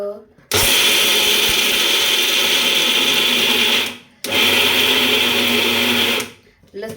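A mixer grinder roars loudly as it grinds peanuts with red chili and garlic for chutney, running in two long bursts with a brief stop between them.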